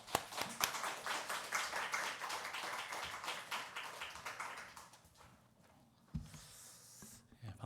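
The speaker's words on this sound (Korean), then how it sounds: "우리 교인들과 우리 목사님께서 나오실 때 환영의 박수를 하시겠습니다" A church congregation at a special Friday prayer meeting claps in welcome for the pastor, a dense run of hand claps that gradually thins and fades, followed by a brief thump and shuffle near the end.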